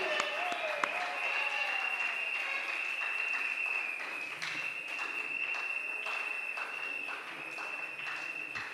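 Church congregation at an evangelistic service led by Évangéliste Nathan Cizubu applauding for the glory of God: steady, dense clapping filling the whole stretch, with a sustained bright tone and some voices running underneath.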